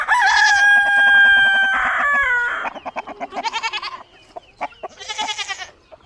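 A rooster crows loudly and close by in a long harmonic call, followed by bursts of hens clucking and squawking at a farm with livestock and a calf nearby.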